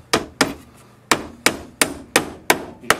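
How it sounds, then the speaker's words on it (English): A hammer drives a 1.5-inch roofing nail into a pre-drilled hole in a wooden bee brooder box, eight sharp, close strikes at an uneven pace, each ringing briefly before fading. "I'm going to put a nail in this to hold it in place so it doesn't back out"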